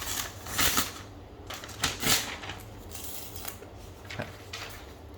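Paper being ripped, probably sheets torn from an exam pad during a math lecture; a few slow, uneven tearing bursts, fairly close and moderately loud, with quieter rustling and handling in between and no talking.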